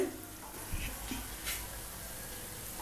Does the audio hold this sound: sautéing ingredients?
yes